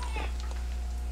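Human voice imitating a cat's yowl, giving a short, drawn-out meow-like cry at moderate loudness over a steady low hum.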